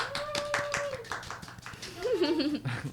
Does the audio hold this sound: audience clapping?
yes